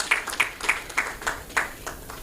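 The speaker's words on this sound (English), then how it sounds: "Can we give a round of applause?" Audience at a public interest litigation forum of a law society conference claps in a short burst: scattered, sharp individual claps at moderate level, with no talk over them.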